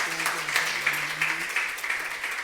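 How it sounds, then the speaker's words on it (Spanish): A church congregation claps in praise during a service, the hands falling into a loose regular beat, with a voice talking briefly under the early part. "Denle un aplauso al Señor"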